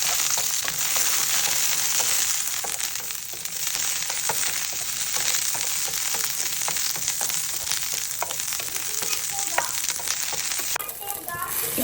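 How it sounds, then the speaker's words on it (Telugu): Green chillies fry in oil in a pan, giving a loud, continuous close sizzle and crackle for the whole stretch, with scattered stirring sounds and no talk. "తర్వాత ఇదే ప్యాన్లోకి కొంచెం ఆయిల్ వేసేసుకొని ఫస్ట్ పచ్చిమిర్చి వేసి ఫ్రై చేసేసుకోండి."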